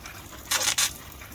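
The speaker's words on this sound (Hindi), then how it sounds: "तो अब जो है जी इसको हम अच्छा सा पानी देंगे" Water poured from a can or hose onto onion seedlings planted in baskets, heard as two short close splashing gushes in midday sun, with no talk.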